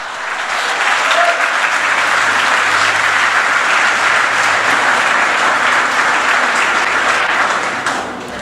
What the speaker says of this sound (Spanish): A su nombre, ¿cuántos le aplauden?